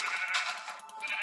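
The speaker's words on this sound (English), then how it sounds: "You stupid sheep." A sheep in the Minecraft modpack Tekkit lets out a loud, close, wavering bleat that fills the short moment on its own.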